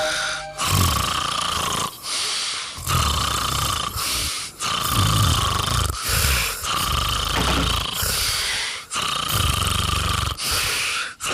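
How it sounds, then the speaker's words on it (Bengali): Loud cartoon snoring: about six long, rasping snores in a slow, even rhythm, each separated by a short quiet breath. No talk is heard. "এটা তো তোমার নাক ডাকার শব্দ"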